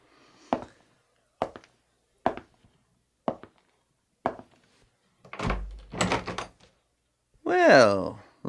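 Five evenly spaced knocks strike a front door, each a sharp, moderately loud thud, followed by people talking.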